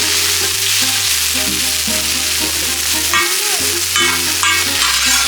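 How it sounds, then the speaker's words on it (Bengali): Chopped capsicum frying in a pan for restaurant-style hakka noodles with chicken and egg, a steady close sizzle with stirring scrapes throughout and no talking. "এটা হচ্ছে ক্যাপসিকাম কুচি, এটা এই দুটোকে আগে সুন্দর করে ভেজে নিবে"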